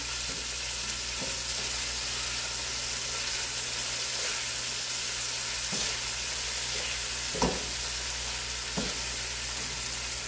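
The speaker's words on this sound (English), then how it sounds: "Let's check the meat. Okay, so it's browning." Pieces of pork sizzle and sputter as they brown in a pot for stew, a steady close frying hiss broken by a few soft stirring knocks, with no voices.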